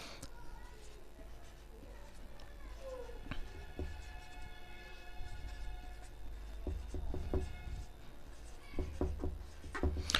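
A pen or marker scratches across a poster in short strokes, faint and close. Speech runs over the writing at times.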